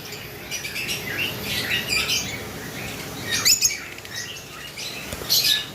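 Lovebirds, including lutino red-headed ones, call from a cage in sharp, overlapping squawks and chirps that come in bursts over a hissy background.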